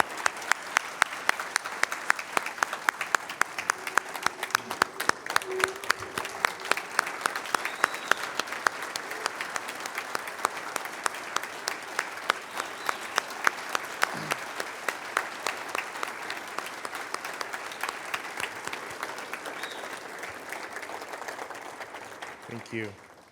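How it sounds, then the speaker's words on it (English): An audience at an alumni awards ceremony gives sustained applause for the award winners, with individual claps clearly audible and rhythmic at times, fading toward the end, while a voice speaks faintly underneath. "How about another round of applause for Dan,"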